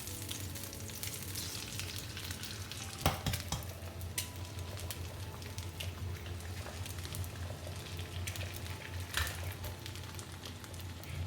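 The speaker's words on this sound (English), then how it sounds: "Add in 2 teaspoons of the oil and crack the 2 eggs." Two eggs frying in oil in a wok beside rice for egg fried rice, a continuous close crackling sizzle with occasional sharper pops and spatula scrapes.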